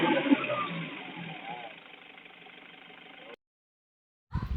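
A Toyota Hi Ace with a 2KD diesel engine idles after repair, a steady low mechanical hum that fades to a softer even drone, then cuts to silence before a brief thump at the end.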